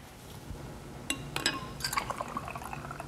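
Fenberry draft mead poured into a cocktail glass, a near liquid stream with glassy clinks and splashes starting after a second of quiet and running steadily to the end.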